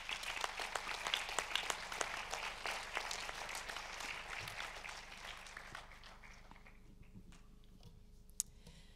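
An audience claps at a Swiss cinema award ceremony, a dense burst of applause that gradually thins and fades to a few scattered claps by the end.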